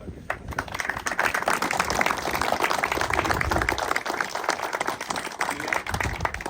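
An audience gives a small round of applause for Josep at a memorial gathering, with steady, fairly loud clapping from many hands that lasts throughout.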